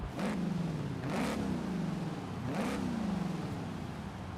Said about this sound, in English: A supercharged V8